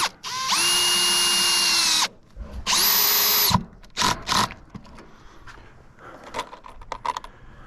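Power drill driving zinc coated steel screws into standing seam roofing over wood, two long high whirring runs followed by short bursts and light metallic clinks, close and loud.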